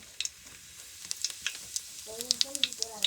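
Cumin seeds crackle and sizzle in hot oil for a Gujarati urad dal, a steady frying hiss dotted with sharp little pops, with a voice joining briefly toward the end.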